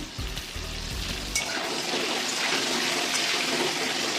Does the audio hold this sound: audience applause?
no